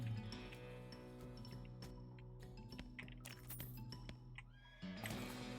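A horse whinnies in the video game West of Loathing, a stylized neigh with clinking and light clip-clop effects layered over a quiet game backdrop.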